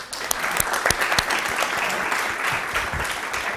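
At a university startup pitch event, an audience breaks into brisk, full applause, with some sharp individual claps standing out near the microphone as the clapping holds steady throughout.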